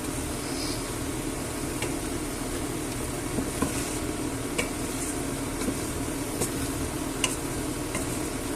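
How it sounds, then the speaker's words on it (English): A spoon stirs flour into a hot pot of garlic chicken, giving a soft, steady sizzle with occasional faint scrapes and clinks against the pot, quiet and close. "we'll give it a nice mix about so that the flour dissolves"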